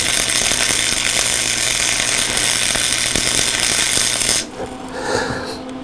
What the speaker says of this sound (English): Now I can hit it with some welding,